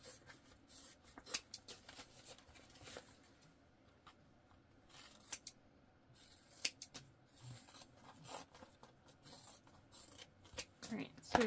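Scissors trim the seam allowance on a fabric bag, making a series of quiet, close snips and rustles that come and go at an irregular pace.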